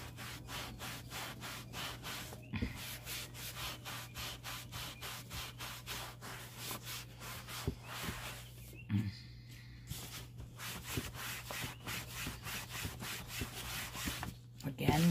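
Cloth rubbed in quick repeated strokes over a rustic farmhouse wooden sign to wipe off excess finish, a soft rhythmic scrubbing close by with a low steady hum underneath and occasional knocks.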